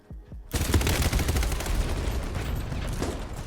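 Rapid hip-fire bursts from a gun in the shooter game BattleBit Remastered, a dense, loud, continuous volley of shots after a couple of short opening cracks, with no talking.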